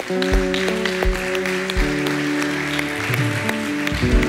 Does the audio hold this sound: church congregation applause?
yes